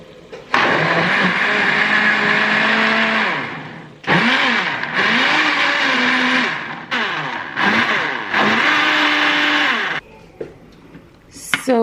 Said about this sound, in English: So let's do the blending now.